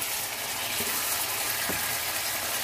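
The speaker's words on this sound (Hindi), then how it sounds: "गोश्त हमारा कितना अच्छा सा फ्राई हो गया तकरीबन।" Spinach mutton (palak gosht) frying in a pan gives a dense, continuous sizzle and crackle, close and fairly loud, with a couple of soft knocks from a utensil; no talking.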